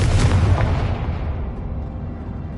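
Confringo fire-blast spell going off in Hogwarts Legacy, one loud close explosive boom that rolls and fades away over a couple of seconds with no talking.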